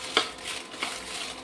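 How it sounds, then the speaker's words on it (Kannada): Dry Byadagi and Guntur red chillies are stirred in a pan, giving a soft continuous rustle with a couple of brief scraping clinks, close up and with no talking. "ಇದನ್ನು ಈಗ ಚೆಂದಕ್ಕೆ ಹುರಿದು ತೆಗಿಬೇಕು."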